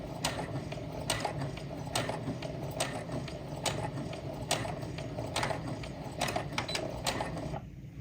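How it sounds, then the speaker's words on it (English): A sewing machine runs a straight stitch along an apron, a steady mechanical whir with repeated sharp clicks and ticks for about seven seconds before stopping near the end. "Now I'm going to do a straight stitch down to make that"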